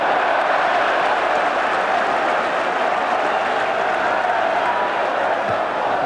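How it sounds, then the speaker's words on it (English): Football crowd at a 1987-88 FA Cup tie between Wimbledon and Watford cheering after a goal, a steady, loud roar of many voices with applause that holds without a break. "The goal has certainly woken up the crowd"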